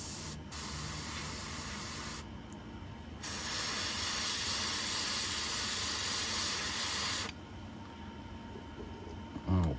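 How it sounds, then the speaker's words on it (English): A close, continuous hiss of spray paint coats a fishing lure in pumpkinseed colors, starting and stopping in a few bursts with one long steady spray in the middle. "I'm just gonna spray up to the line."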